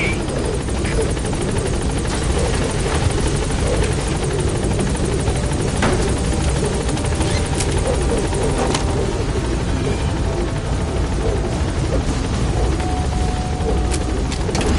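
A helicopter in the video game Metal Gear Solid 5 gives off a dense, steady rotor chop and engine roar that fills the whole stretch loud and close, with a few faint voices under it.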